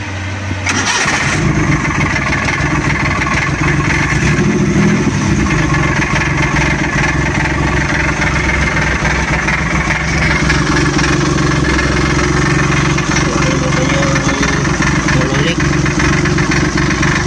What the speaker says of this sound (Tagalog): Medyo maingay lang kasi yung motor niya ay putol.